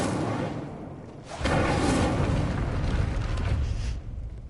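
Incendio fire spell cast in Hogwarts Legacy, a loud roaring whoosh of flame that swells suddenly and holds for a few seconds before easing off.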